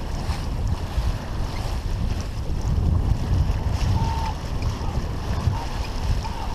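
Steady wind gusting over open water while sailing on Lake Huron, a continuous rushing roar with wave wash and mic buffeting, loud and close throughout.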